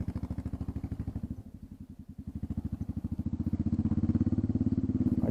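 A Royal Enfield Classic 350 single-cylinder motorcycle idles with its exhaust tip removed, giving a steady, even low thump close up. The pace briefly drops and then settles back, with no talk over it.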